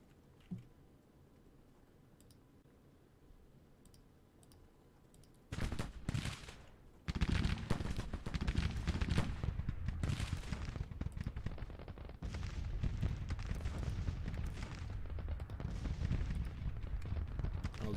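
Musket volleys crackle in a Civil War battle in Grand Tactician: The Civil War: quiet at first, then dense, continuous rippling gunfire with bursts of heavy reports that stays loud to the end.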